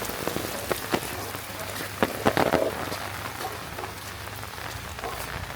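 Steady rain falling on a farm in the Malnad hills under intermittent sunshine, a soft continuous patter across the ground with a few louder drops and splashes standing out near the middle.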